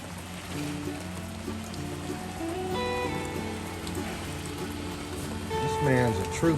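Rain falling steadily in a forest during a drizzly day of land clearing, a soft continuous patter with faint tonal background sounds and a brief louder swell near the end.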